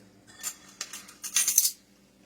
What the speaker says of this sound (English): we're going to mix this all together until it's smooth